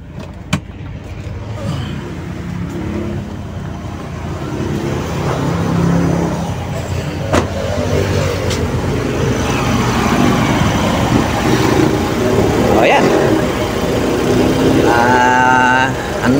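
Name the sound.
Toyota Corolla 2E engine idling at about 900 RPM after cold start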